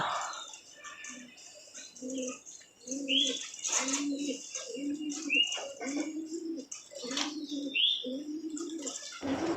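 Pigeons coo in repeated low, rhythmic phrases close by, with chirps and bursts of wing flapping as the birds fly down and enter their loft.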